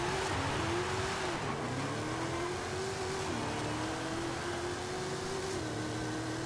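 A 1500 hp engine in a Barracuda in Forza Horizon 5 drones steadily, its pitch climbing then dropping sharply at rapid gear shifts about every one to two seconds, loud and continuous with no talk.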